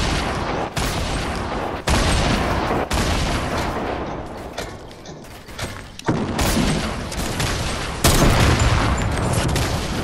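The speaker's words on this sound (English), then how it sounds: "Grenade launcher." Grenade launcher firing in Fortnite, loud booming blasts and explosions that come in several bursts, dense and close, with steady game noise filling the gaps and no clear talk.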